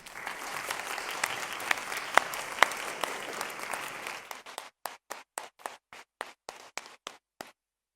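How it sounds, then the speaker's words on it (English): An indoor crowd at a graduation ceremony applauds academic and teaching staff, dense clapping for several seconds that thins into a few scattered, fading claps before silence. "give them a huge round of applause"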